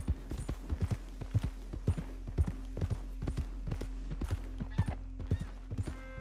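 Horse hooves clip-clopping in Red Dead Redemption 2, a regular trotting rhythm of distinct hoof strikes over a low steady hum, with a faint whinny near the end.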